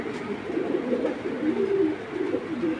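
Racing pigeons at a Bangladeshi pigeon sale cooing softly and continuously, low repeated murmuring coos close by, with no talk.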